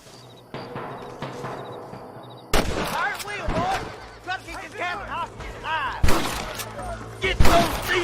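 Gunfire rings out in the Western video game Red Dead Redemption on PS3. A few sparse shots come first, then a dense run of sharp, loud cracks and bursts with ricochet-like whines, mixed with game voices.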